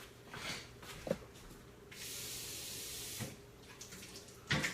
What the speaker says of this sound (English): I just put a little bit of water in the bottom of this pan